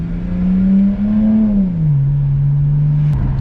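A 2008 BMW 335xi with a stock engine and exhaust idles and revs gently, a smooth, loud, close droning hum that rises slightly then settles lower, with no one talking over it.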